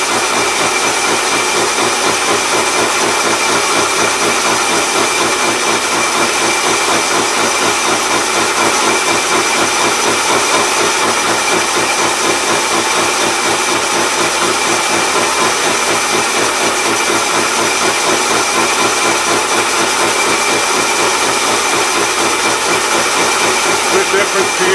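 A metal lathe turns at about 230 revs, giving a steady, loud broadband whirring and rushing drone that holds constant for the whole stretch without pauses.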